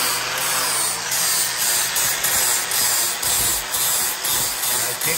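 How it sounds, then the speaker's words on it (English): An angle grinder with 80 grit sanding paper shaping a metal spur, a loud, close, continuous abrasive whine rising and easing in regular pulses as it works the piece, with no talking. "Taking that angle grinder in there, not aggressively either."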